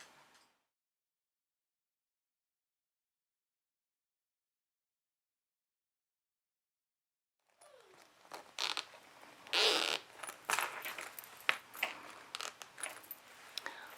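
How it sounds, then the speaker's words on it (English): Zipper pulls being fitted onto the zippers of a sewn carry-around pouch: several seconds of silence, then a close series of small metallic clicks, jingles and short zipping rasps. "now I need to put my zipper pulls into all my zippers"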